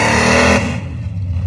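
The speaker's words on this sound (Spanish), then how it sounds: "Se oye muy bien los dos carros, Se oyen muy bien." Race cars, a Corvette and a Hulk-themed car, with engines roaring loudly nearby, a steady harsh drone that drops off sharply partway through the short burst.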